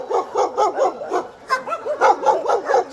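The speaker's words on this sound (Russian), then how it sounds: "Собак очень много. Всех мастей." Several dogs at a dog shelter bark and yip in rapid overlapping bursts, close and loud, a busy chorus of barks with no pause.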